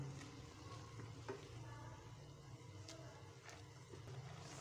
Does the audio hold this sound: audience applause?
no